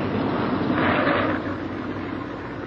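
Propeller drone of a World War II B-17 Flying Fortress bomber coming in to land, a broad steady roar that swells briefly near the middle and then settles, heard alone without voices.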